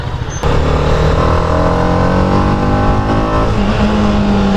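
A 2021 TVS Apache RR 310 motorcycle revs while being ridden in urban mode, a loud, continuous engine drone with its pitch climbing and settling, close by, with no talk over it.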